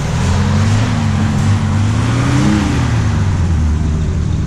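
Old Studebaker pickup truck engine idling steadily, a loud continuous low hum with a slight rise and fall in pitch.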